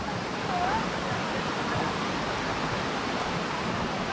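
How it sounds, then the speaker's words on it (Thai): Lan Rak waterfall in Nakhon Nayok, Thailand, a steady, loud, broadband rush of falling water that continues unchanged throughout, with a faint bird chirp early on. "น้ำตก ลานลักครับ"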